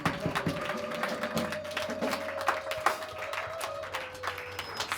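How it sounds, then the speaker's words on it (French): Scattered clapping from a congregation at a Passover church service, fairly steady and moderately loud, with a sustained tone and background murmur running beneath it. "Somebody applaud."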